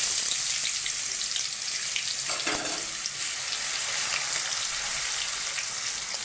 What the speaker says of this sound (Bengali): রসুনটাকে একটু লাল করে ভেজে নেব।